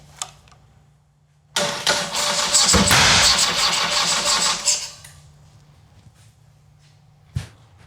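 A motorcycle engine, started by hand with manual choke while being revived, catches and runs loudly for about three seconds before cutting out, with a faint idle hum before and after and a brief sharp knock near the end.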